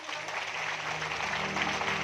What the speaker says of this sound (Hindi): अच्छा, एक बार ठाकुर जी के लिए भी जोरदार ताली बजाओ।